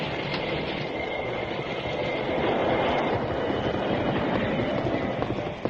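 A steam train from an old-time Western radio drama rumbles steadily and loudly throughout, a continuous rolling rush of wheels and rail noise with no voices.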